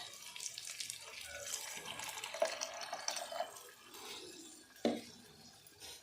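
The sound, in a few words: pouring tamarind juice into a pan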